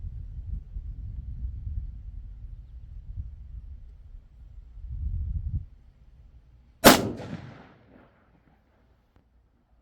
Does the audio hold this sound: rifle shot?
yes